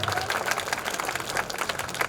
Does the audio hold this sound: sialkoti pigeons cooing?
no